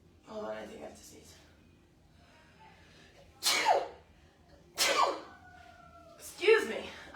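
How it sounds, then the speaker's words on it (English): Three or four sharp sneezes burst out one after another during a floor-based strength and mobility workout session, each loud and close, separated by quiet pauses with a little breathy sound between. "I think I have to sneeze."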